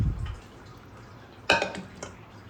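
Rinse water splashes out of a pot of washed moong and toor dal in a home kitchen, a short watery pour and drip burst with a faint metallic clink, preceded by a quiet stretch.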